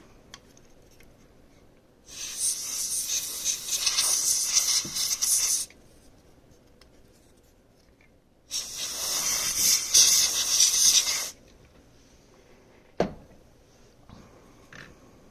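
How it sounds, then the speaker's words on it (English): Compressed air blasts into an opened NES game cartridge in two loud hissing bursts of about three and a half seconds each, separated by a quiet pause, followed by a brief click. "I'll hit this with compressed air and then I'll put it back."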